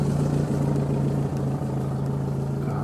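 A car engine idles steadily by a lakeside road, a low even hum with a constant tone close by, no talking.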